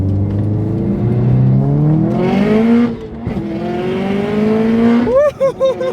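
A track-built Subaru WRX STI pulls hard on a race track, its loud engine note climbing repeatedly through the gears, then giving way to short, sharp squealing bursts near the end.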